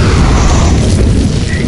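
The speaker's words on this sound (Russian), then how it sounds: "Наверное, лучше кинуть туда в толпу прямо гранату, чтобы не париться" A heavy, booming grenade blast in Resident Evil 4: Assignment Ada, with deep rumbling low end that fills the whole moment, loud and sustained without any talking.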